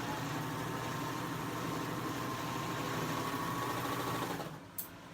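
Serger sewing a quilt block seam, a steady fast mechanical whirr at close range running unbroken for about four seconds, then stopping with a small click.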